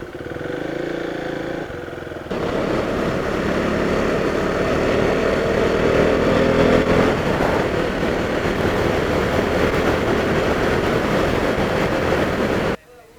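A motorcycle pulls away after breakfast at a cafe on a bike trip from Bangalore to Himavad Gopalaswamy Betta. A steady, loud engine and wind roar builds after a brief quieter idle and runs unbroken before cutting off abruptly.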